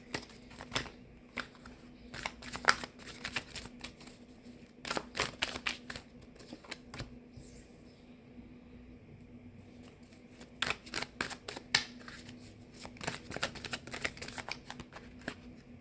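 Tarot cards are shuffled and drawn up close, with bursts of rapid crisp riffling clicks around a quieter middle stretch of soft handling.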